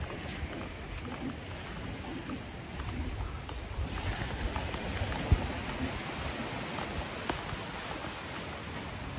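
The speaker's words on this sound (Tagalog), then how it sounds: "Malakas-lakas ang ulan yan." Heavy rain pours at Micro Beach in Saipan as a constant broadband hiss, close and loud, mixed with wind and surf noise and a single sharp knock midway.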